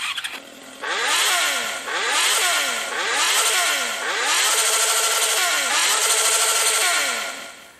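A Honda Hornet 600cc motorcycle engine in a video game revs repeatedly, rising and falling in several loud, whining sweeps that follow one another with barely a pause.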